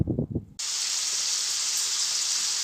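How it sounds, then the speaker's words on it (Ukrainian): A brief voice-like sound is cut off by a sudden, steady, close sizzle of a frying pan that hisses on without pause. "Сковородочка шкварчить, свіжачок жариться."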